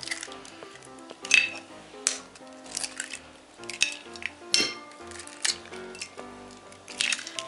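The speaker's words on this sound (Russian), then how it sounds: "Разбиваем 3 яйца." Three eggs cracked into a bowl for chak-chak dough: several sharp taps and clinks of shells against the bowl rim, with soft wet squishes between them, close and fairly quiet.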